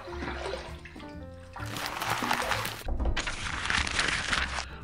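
Water runs steadily from a tap to rinse a safety razor, the modern PAA Meta-4, in bursts of splashing flow with brief pauses between, fairly close and filling the clip with no talk.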